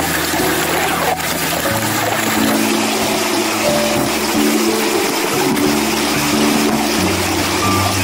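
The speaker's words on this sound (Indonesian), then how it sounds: "Di sini yang pertama aku tuh mau nyuci piring dulu." Dishes washed in a stream near a tree house, with steady running water and a low, continuous wash and trickle throughout, close and alone with no talk.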